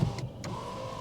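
A Renault Megane's electric window motor whirs steadily as the glass lowers slowly, a faint continuous hum under a brief click near the start.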